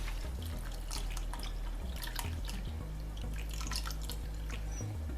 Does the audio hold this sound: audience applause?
no